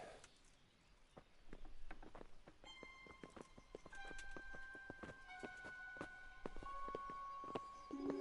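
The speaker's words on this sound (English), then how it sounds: "Bring the horses." Horse hooves clip-clop in the Kingdom Come: Deliverance video game, faint, uneven steps under a soft musical drone, with a brief whinny-like sound and no clear talk.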